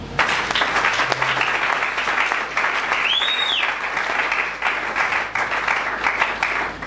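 A church congregation gathered for a sermon applauds loudly and steadily, clapping continuing for several seconds. A brief whistle-like tone rises and falls over the clapping midway through.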